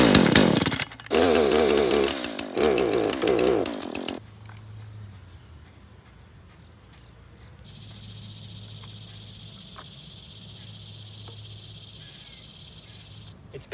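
A chainsaw cutting brush roars loudly for about four seconds, cutting in bursts, then stops, leaving a quiet outdoor scene with a high, steady insect trill.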